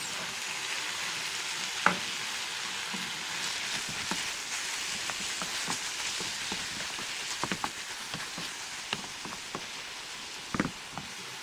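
Minced meat sizzling in a pan as it is stirred, a soft continuous frying hiss broken by scattered scraping clicks from the spoon, close and fairly quiet with no voices.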